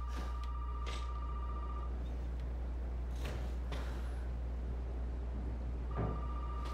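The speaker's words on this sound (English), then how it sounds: "What the fuck is a phone ringing?" Two bursts of an old-style telephone ring sound in a Resident Evil 7 game scene, faint over a steady low hum and scattered knocks, with nobody speaking.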